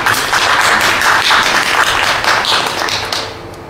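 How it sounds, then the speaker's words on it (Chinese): An audience at a Deyun Society crosstalk theatre show claps in a dense, steady burst of applause that fades out toward the end. "谢谢大家的掌声啊"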